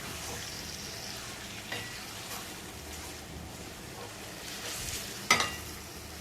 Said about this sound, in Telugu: మొత్తం ముక్కలు బాగా ఫ్రై చేసుకోవాలి.